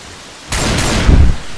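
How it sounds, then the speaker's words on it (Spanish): Heavy rain in a video game roars in abruptly as a dense, loud wash of noise with a low rumble swelling underneath, no voices. "El juego está lloviendo."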